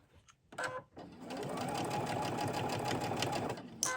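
A sewing machine double-stitches a felt heart project: a brief start and stop, then a steady, fast mechanical whirring run of stitching at close range before it halts.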